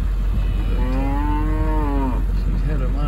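A cow on a farm at hay feeding time gives one long, loud, drawn-out moo with a falling tone, close by over a steady background hum.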